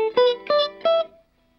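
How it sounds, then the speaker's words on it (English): Three plucked electric guitar chords ring out in quick succession, dry and clean, each cut short with no lingering echo before silence. "This is what the guitar sounds like without the reverb."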